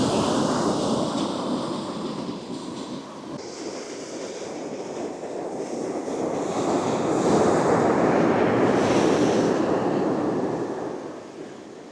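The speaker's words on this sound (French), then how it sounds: "la météo, il parlait de vagues de 3 à 5 mètres de haut" Large ocean waves, forecast at three to five metres, break and wash onto a sandy beach in a steady, swelling roar, with wind buffeting the microphone throughout.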